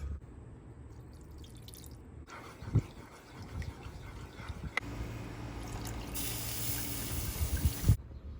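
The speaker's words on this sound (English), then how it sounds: "Add some wine and beef broth." Wine and beef broth poured onto a butter-and-flour roux on a Blackstone griddle, a continuous liquid pour and sizzle with splashing drips, steady and close, with no talk.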